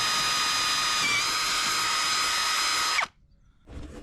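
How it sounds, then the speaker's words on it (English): A power drill bores a hole through a boat's hull with a loud, steady high whine for about three seconds before stopping abruptly, followed by a brief silence and then a softer noise. "I'm going to drill this hole and I'm going to see where it comes out."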